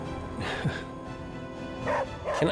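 Charlie, a dog in Marvel's Midnight Suns, lets out a few short, sharp barks and yips at irregular moments over a quiet musical background.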